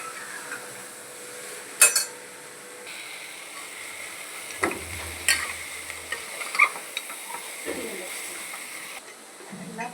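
Bitter gourd curry with jaggery fries in a pressure cooker, a soft continuous sizzle with scattered sharp clinks and scrapes of the spoon against the metal pot.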